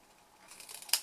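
Scissors snipping through a folded paper wedge for a bookfold tealight gift, a soft near cutting rustle that builds to one crisp snip, alone and quiet.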